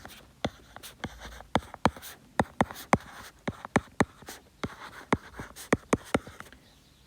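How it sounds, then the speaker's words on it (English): Pen scratching out an equation on paper or a board, a rapid series of sharp, close strokes and taps in irregular rhythm, with no talking. "So if I write that down again"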